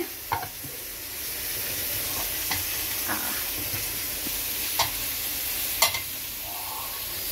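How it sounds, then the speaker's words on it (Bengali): Eggplant slices (begun bhaja) frying in a pan in a home kitchen, giving a steady soft sizzle throughout with a few sharp pops and clicks scattered across it, no voices. "বেগুন ভাজা এখানে ততক্ষণ হচ্ছে"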